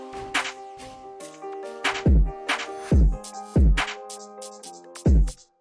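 Drill beat built in FL Studio with a normal piano line and a small percussion fill, no 808 bass: steady melodic piano chords under crisp rhythmic drum hits and punchy low kicks, loud and alone.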